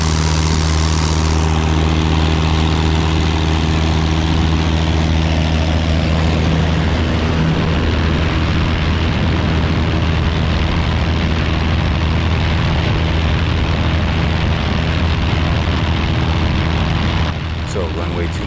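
Piper Archer propeller engine at full throttle for takeoff on a runway, a loud continuous droning roar with steady low harmonics that stays strong for the whole stretch, heard from inside the cabin.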